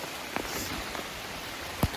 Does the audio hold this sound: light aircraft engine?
no